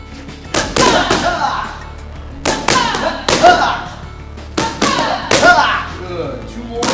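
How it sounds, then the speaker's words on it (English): Punches thud into a handheld martial arts target pad in a training drill, coming in quick double strikes across several bursts, with voices speaking between the impacts. "now you're going to throw a double punch"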